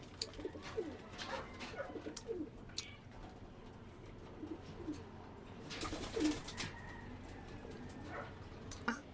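Young racing pigeons coo softly in a loft, a few low throaty calls spread through a steady background murmur, with occasional sharper bird sounds and faint rustling.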